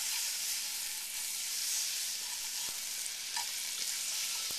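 Butter, one and a half tablespoons, sizzling gently in a pan over really low heat for seared vegetables, a soft continuous hiss at low volume with no talking.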